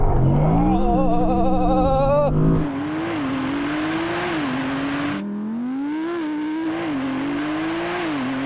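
A Mercedes-AMG GT 63, Audi R8 and Porsche 911 Turbo drag race, with loud close engines revving and climbing in pitch through repeated gear changes, a harsh cut between runs, and faint talk beneath.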